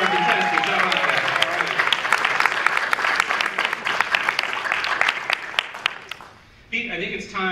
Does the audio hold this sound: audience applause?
yes